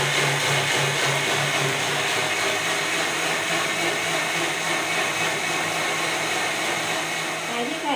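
A mixer grinder grinds soaked rice into batter for unniyappam, running with a loud, continuous motor whine and churning hum throughout, with faint talk in the background.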